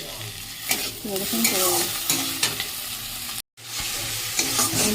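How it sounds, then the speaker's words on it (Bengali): Ground ginger, garlic and onion paste sautéed in oil for an egg curry sizzles loudly with frequent stirring scrapes, close up, broken by a brief silent gap, with a short spoken phrase. "এই যে ডিমের ঝোলে মশলাটা কষা হচ্ছে"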